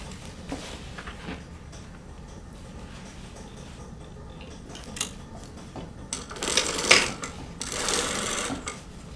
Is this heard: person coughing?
no